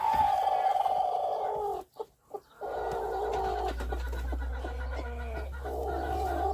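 A broody hen that has been sitting on ducklings clucks and coos softly close by, a steady run of low fowl calls with a short pause midway and a low rumble underneath.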